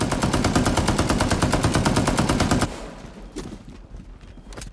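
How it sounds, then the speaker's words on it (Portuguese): Rapid machine-gun fire in the mobile shooter game Area F2 rattles in a dense, loud, steady burst for about two and a half seconds, then cuts off, leaving a few scattered fainter shots and clatter. "Ah, tomando tiro!"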